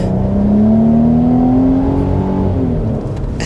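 A Nissan Armada Nismo full-size, body-on-frame SUV with a tuned 3.5-liter twin-turbocharged V6 accelerates, its engine note climbing steadily in a loud, continuous drone that eases off near the end, with no talking.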